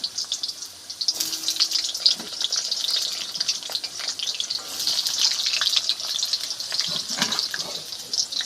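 Potatoes sizzle and fry in hot mustard oil in a wok, a steady crackling hiss with occasional clinks and stirring sounds as the pieces are turned, close and alone without speech.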